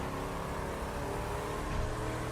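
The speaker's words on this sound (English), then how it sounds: "Gonna hit the nitro boost to be going straight" A car in The Crew 2 racing game fires its nitro boost on a straight, a steady loud engine roar with constant broadband rush that swells slightly toward the end, no talk.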